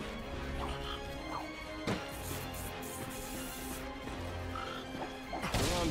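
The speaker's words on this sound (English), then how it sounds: "Look at him smashing crates." Wooden crates being smashed in the Ratchet and Clank video game: a couple of sharp crashing breaks, one near the middle and one at the end, over a constant busy bed of game sound.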